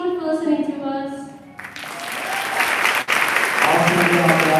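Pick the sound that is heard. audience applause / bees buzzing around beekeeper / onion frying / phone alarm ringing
audience applause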